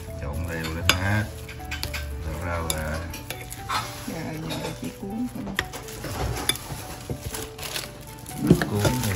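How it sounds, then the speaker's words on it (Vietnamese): Spring roll filling being mixed and stirred in a bowl, with steady scraping and clinking of a utensil throughout, alongside some background sizzling and clatter of pots. "Trộn đều lên hết."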